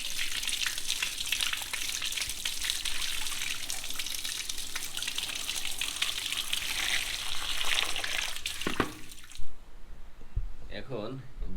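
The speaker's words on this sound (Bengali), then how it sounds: "এখানে একটু পানি বেশি দেওয়া লাগে, কারণ এটা সিমেন্টের তো পানি বের হয়ে যায়" Water poured onto a plant in a cement pot, splashing and trickling steadily for several seconds with a dense, hissy wash, then stopping near the end, followed by a brief thump and a moment of speech.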